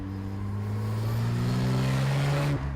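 Lister Knobbly road-legal race car, a raw 1958-based machine, holds a steady deep engine drone with rising revs for over two seconds, then the note drops abruptly near the end as the throttle lifts; loud and close, no talking.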